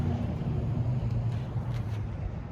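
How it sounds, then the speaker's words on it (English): A loud car passes outside a Goodwill store, a steady low rumble that holds for a couple of seconds and then eases slightly as it moves off. "That was a loud car."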